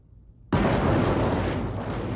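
Sudden heavy blast at the onset of a First World War artillery bombardment of British lines in 1918, opening into a sustained, loud roaring rumble of explosions that fills the rest of the moment without any pause or talk.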